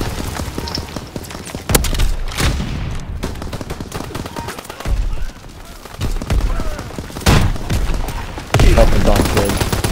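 Gunfire in the Call of Duty: WWII ground war mode, a steady run of loud shots and bursts from several weapons, close and distant, with a voice talking over the battle noise.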